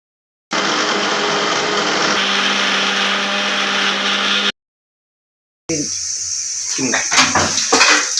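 A mixer grinder whirs loudly in bursts as cooled spices for biryani masala are ground, its motor changing pitch midway, then stopping before a second, rougher grinding run.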